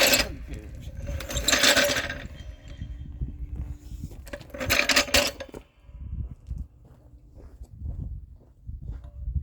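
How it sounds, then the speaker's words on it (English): Mechanic's creeper rolling and scraping over gravel beneath a car, giving bursts of gritty, rattling crunches between quieter clicking movements, fairly close. "Creepers on gravel kind of suck too."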